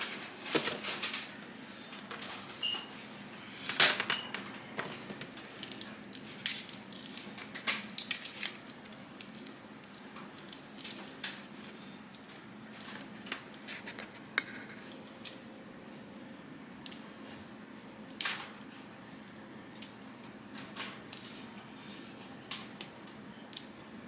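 A knife trims the ends off raw tomatillos on a cutting board, giving sparse, irregular soft clicks and squishy cuts over a quiet kitchen background, no voices.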